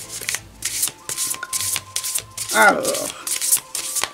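A deck of playing cards shuffled in repeated riffling bursts, close and fairly loud, with a brief mid-clip burst as cards spring out, while someone speaks French throughout.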